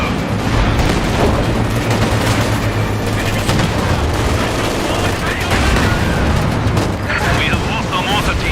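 Video game battle gunfire with infantry and mortar crews, dense continuous bursts and booms filling the scene loudly, with voices calling out over the shooting.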